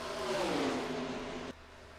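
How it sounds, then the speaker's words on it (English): Race car engines in the NASCAR Racing 2003 video game roar steadily as cars dive into turn one, a sustained loud mechanical drone with shifting pitch that cuts off abruptly near the end, no voices. "you can just hear those the new engine pack. Oh, it sounds beautiful as they dive into turn 1 here."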